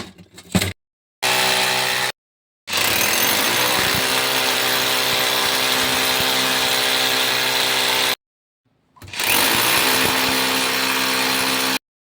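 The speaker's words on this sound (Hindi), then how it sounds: "तो लेवल ले लिया, अब इसको हम ड्रिल करेंगे।" Electric drill boring holes into a wall to mount a Haier LE32A7-N TV, loud sustained whining bursts of several seconds each, separated by short silences, close to the microphone.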